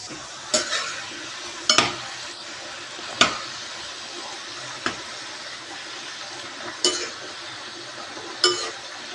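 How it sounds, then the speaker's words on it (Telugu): Papdi frying in hot oil over a low flame: a steady close sizzle punctuated by about six sharp metallic clinks of a utensil against the pan, with no talking. "చక్కగా గోల్డెన్ బ్రౌన్ కలర్ వచ్చే వరకు 2 sides కూడా ఫ్రై చేసుకోవాలన్నమాట"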